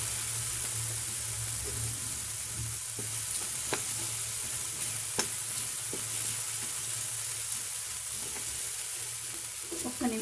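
Puffed rice upma is stirred and fried in a pan, with a steady close sizzle and scraping stir strokes plus occasional sharp clicks of the spoon against the pan, and no voices.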